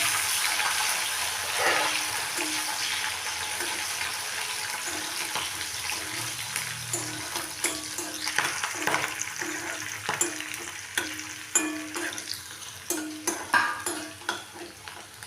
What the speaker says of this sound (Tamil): திராட்சை பாதாம் பிஸ்தா நல்லா கொஞ்சம் வறுத்து எடுத்துக்கோங்க